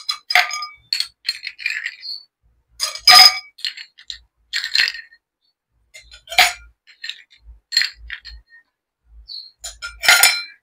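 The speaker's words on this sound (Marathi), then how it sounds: "तर सुरुवातीला आपण ग्लास मध्ये आईस क्यूब घालूया." Ice cubes dropped into a drinking glass while preparing a chilled sabja (basil seed) milk drink, giving scattered sharp clinks and rattles in separate bursts, close and fairly loud, with quiet gaps between.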